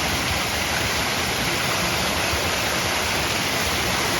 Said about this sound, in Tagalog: Ganun kalakas yung tubig sa loob ng tunnel.